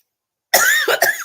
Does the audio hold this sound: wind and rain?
no